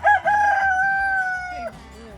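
A rooster crows once, a loud drawn-out cock-a-doodle-doo close by, ending in a short falling note, among chickens at a campsite in the pines near Jerome ghost town.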